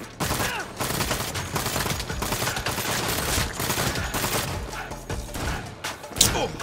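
A newly acquired gun fires in Saints Row, a dense, sustained fusillade of rapid loud shots and thumping impacts, close and continuous over several seconds, with faint game voices mixed in.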